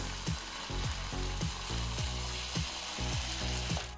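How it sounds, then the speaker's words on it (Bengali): Rice batter for jaggery patishapta sizzles in a pan, a steady close hiss under a regular series of clicking, ratchet-like knocks from a repeating mechanical sound. "এবারে কিছুক্ষণ অপেক্ষা করতে হবে যাতে করে নিচের দিকটা ভাজা হয়ে যায়"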